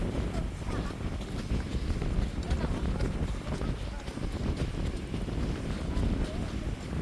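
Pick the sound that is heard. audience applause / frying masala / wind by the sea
wind by the sea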